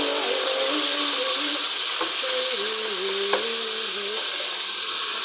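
Tibs, fried meat with red onion, sizzling steadily in a pan, a constant close hiss and crackle with a faint tonal whine running through it and no talking.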